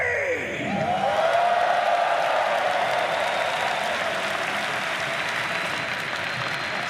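A large esports arena crowd at The International 13 Dota 2 finals breaks into sustained, loud applause and cheering that swells quickly and holds steady, with a brief announcer's voice fading at the start.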